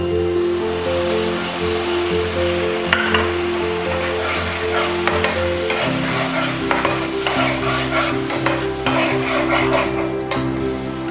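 Boiled, crushed tomato puree hits a hot pan for a vegetable sizzler, giving a loud, steady sizzle and frying hiss with repeated scraping stirs and soft spatula knocks throughout, no voices.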